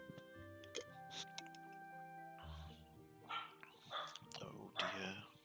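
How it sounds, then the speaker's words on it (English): A small dog yaps in short, bright barks scattered through the clip, mixed with a few whimpers, heard indoors in a room where a steady electronic tone plays underneath. "I can hear a little dog going woof."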